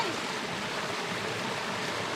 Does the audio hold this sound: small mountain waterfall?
yes